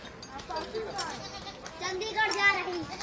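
A goat traveling with a group on the road bleats in wavering, nasal cries a few times, close by, mixed with children's voices and chatter.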